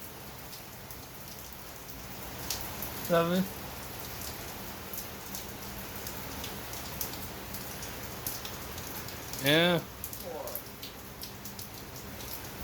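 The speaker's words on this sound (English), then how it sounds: "Rain, rain, rain. Fall." Steady rain falls in a constant soft hiss on surfaces outdoors, with faint murmured talk and a couple of brief bird chirps rising above the wash.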